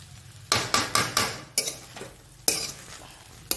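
A spoon scrapes and knocks against a pan as sabudana khichdi is stirred, several sharp clatters in quick succession followed by a couple of spaced strokes over a low sizzle.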